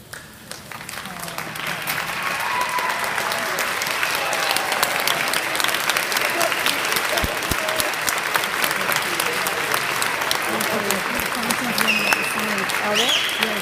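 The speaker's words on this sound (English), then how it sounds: "give a great big round of applause to recognize all those who care so much about your success" Graduates at a closing ceremony give a round of applause that swells in the first seconds into loud, sustained clapping from a large crowd, with a few voices calling out over it.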